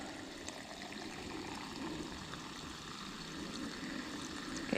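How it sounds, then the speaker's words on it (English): Water running steadily into an RV's fresh water tank, a continuous close pouring and trickling hiss with a slight rise toward the end and no talk. "I can hear it filling up."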